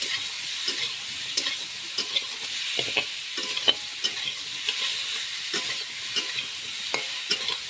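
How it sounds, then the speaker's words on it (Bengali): Steady sizzling of potatoes and ridge gourd in a pan with repeated scraping and clinking of a spatula stirring them, no voices. "এখন ভালো করে কষিয়ে নেব"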